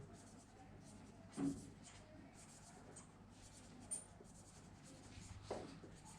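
A ballpoint pen running out of ink scratches softly across paper in short strokes, faint and close, with occasional light taps and paper rustles.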